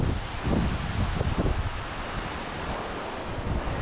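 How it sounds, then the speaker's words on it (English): Ocean waves breaking on a Scottish shoreline: a broad, constant rush of surf mixed with gusty wind buffeting the microphone, with a few heavier thumps near the start. "now and again there's a lull in the waves, and then all of a sudden, boom, loads of them just start coming flying in"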